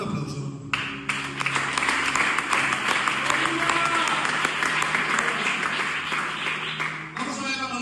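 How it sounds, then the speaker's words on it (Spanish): Church congregation claps during a worship service after a prayer, a sustained loud round of applause from the crowd with voices speaking at the start and end. "Dale un aplauso."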